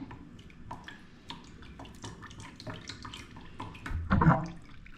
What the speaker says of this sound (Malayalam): ആദ്യം ഒരു കുപ്പിയിലോട്ട് ഒഴിച്ച് വെക്കാം